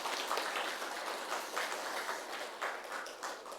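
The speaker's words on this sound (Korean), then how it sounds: "하나님께 영광과 감사의 박수를 올려드리겠습니다." Church congregation clapping together at a Christmas service, a steady dense wash of applause filling the room without break and fading slightly near the end.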